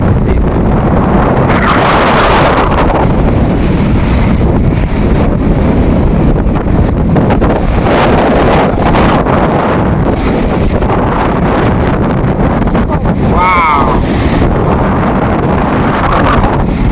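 Loud wind buffets the microphone over a constant roar of waves and rushing water from the fifth deck of a ship in open sea between Andaman and Vizag, sustained and heavy throughout.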